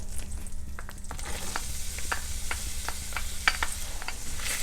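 Onions frying in melted butter in a skillet, a steady close crackling sizzle dotted with sharp pops and stirring clicks, no talking.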